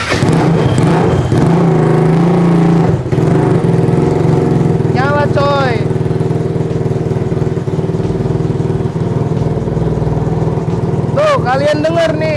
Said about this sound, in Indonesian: Kalian denger nih, udah bisa idle nih motor.